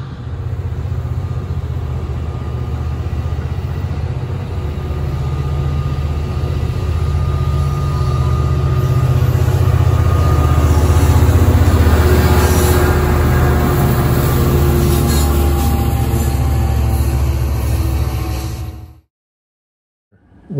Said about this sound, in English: let's watch this Amtrak train depart